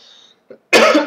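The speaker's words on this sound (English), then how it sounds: "Sorry, I'm coughing." A single short, harsh cough comes close up after a faint throat sound, loud and abrupt in otherwise quiet surroundings.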